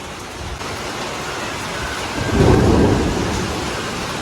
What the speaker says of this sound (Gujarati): બહુ જ ગાજે છે વરસાદ